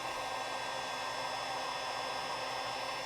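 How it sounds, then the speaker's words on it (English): A heat gun shrinking heat-shrink tubing onto Honda CB350 motorcycle wiring during a charging system upgrade, producing a constant close, loud blowing whoosh with a steady fan hum throughout and no speech. "let's use the heat gun to shrink these up."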